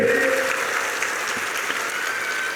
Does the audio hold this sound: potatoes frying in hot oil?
no